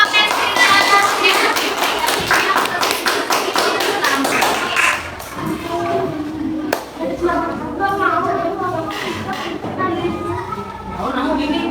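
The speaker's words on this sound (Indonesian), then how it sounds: "Tepuk tangan untuk kelompok magnet silinder atasnya" Classmates clap for a presenting group in a classroom, a dense burst of hand claps for the first five seconds that thins into scattered claps and taps, with voices talking over the tail.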